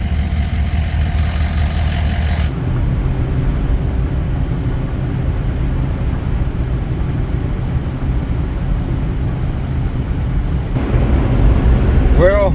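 A pickup truck drives on a road, giving a steady, loud rumble of engine and road noise that runs for the whole stretch with no break.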